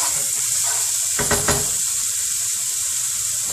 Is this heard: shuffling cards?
no